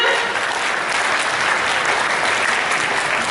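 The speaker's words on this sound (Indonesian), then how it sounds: "Tepuk tangan dulu dong, ya." Audience at an intensive network-marketing training session bursting into loud, steady applause, many hands clapping densely and close in an even wall of sound that holds throughout with no speech over it.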